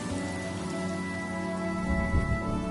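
Rain falls in the video game Honkai Star Rail, a steady soft patter of drops on surfaces under a sustained tonal musical drone, even and continuous throughout.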